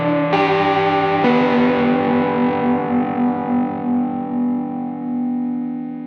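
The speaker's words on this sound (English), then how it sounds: "chorus and distortion in parallel." An electric guitar runs through an Old Blood Noise Endeavors Excess V1 pedal, with chorus and distortion blended in parallel. Two strummed chords ring out thick and shimmering, then sustain and slowly fade with a wavering, modulated tail.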